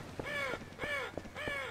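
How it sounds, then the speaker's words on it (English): Crows caw in the Half-Life 2 video game, three loud, harsh calls spaced evenly about half a second apart, close and clear with no talk over them. "Yeah, fuck you, birds."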